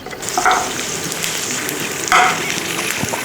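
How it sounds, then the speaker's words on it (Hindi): A cinnamon stick, peeled almonds and dried apricots fry gently in ghee over low heat, a soft steady sizzle with two brief brighter crackles, no voices. "घी में शामिल करेंगे हम 1-2 इंच का टुकड़ा दालचीनी का, 9 छिले हुए बादाम, 5 सूखी खुबानियाँ, और इन्हें धीमी आंच पे हल्का हल्का फ्राई करेंगे।"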